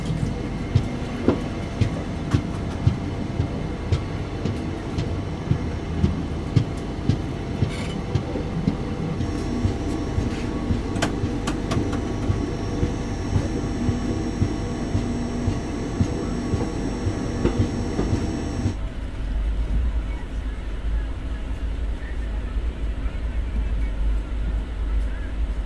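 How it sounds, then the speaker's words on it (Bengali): Howrah Kalka Netaji Express rolling slowly, a steady low rumble with irregular rail clicks and thumps heard from inside the coach, loud and continuous until the noise drops sharply near the end. "আর ট্রেন এখন আস্তে আস্তে চলছে।"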